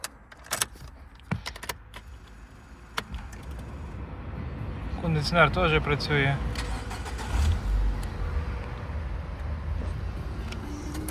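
Keys jingle and clatter, then a 2008 Nissan Qashqai 1.6 petrol engine cranks and catches around the middle, settling into a steady running rumble while someone speaks.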